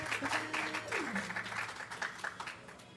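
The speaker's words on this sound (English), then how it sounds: "For the audience that's here, can I get a round of applause for Dom?" An audience at a live gaming event claps in a scattered, fairly faint burst of applause lasting a few seconds, with voices mixed in.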